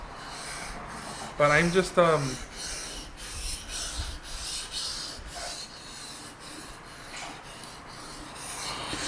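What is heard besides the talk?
knife being sharpened on water stones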